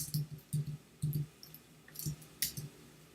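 Soft, close clicks and taps of a computer keyboard come in short uneven bursts of keystrokes with pauses between them, quiet and with no voices.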